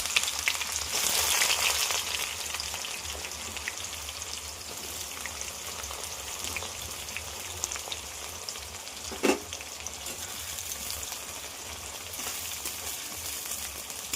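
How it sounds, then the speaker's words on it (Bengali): Chopped onions fry in hot oil with dried red chillies and cumin for a thin chicken curry, giving a steady close sizzle throughout, broken once by a single sharp clink of a utensil. "পেঁয়াজটা একটু ভাজা ভাজা হবে, লাল লাল করে ভাজতে হবে।"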